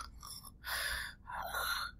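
A voice imitates snoring with a few raspy, breathy inhalations and exhalations, close and fairly loud, with no words spoken.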